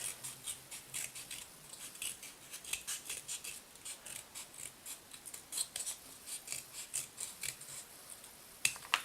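Scissors snipping through a cardboard egg carton to cut out a round cell, a steady series of close, crisp cuts with papery rustle between them, no one talking.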